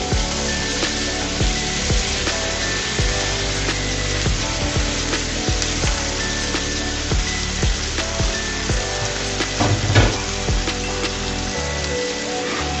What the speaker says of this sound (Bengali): দেখো বন্ধুরা আলুটাকে আমি 2 মিনিট ভেজে নিয়েছি। এই পর্যায়ে আমি দিয়ে দেবো ধুয়ে রাখা ফুলকপিগুলো।